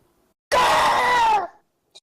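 A voice imitates a high-pitched monster screech in a single sustained wavering cry of about a second, loud and close, followed by a brief faint sound.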